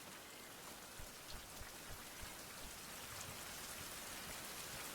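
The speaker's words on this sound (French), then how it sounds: "Ah, il se met à pleuvoir." Steady rain falls in a survival video game set around a jungle temple, a dense, even hiss of drops with a few soft low taps, constant and moderately loud throughout with no voices.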